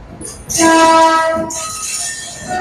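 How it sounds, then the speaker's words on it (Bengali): A Howrah to Digha passenger train rolls along loudly and close, with a sustained horn blast over the rumble of carriages and a screech of wheels, heard alone without talk. "আমাদের ট্রেনটা এখনই গন্তব্যের উদ্দেশ্যে রওনা দিল"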